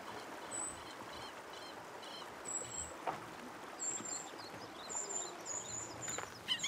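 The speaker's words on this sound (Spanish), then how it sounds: "Mira, ese es el rayadito." Thorn-tailed rayaditos calling in the forest trees of Nahuel Huapi National Park, several short high thin chirps and trills scattered over a soft background hiss, faint and somewhat distant.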